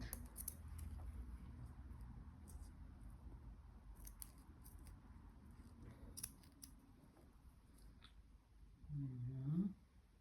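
Scissors snip around a rose motif on a paper puzzle piece, a run of faint, close clicks and rustles over low room noise, with a louder brief scrape near the end.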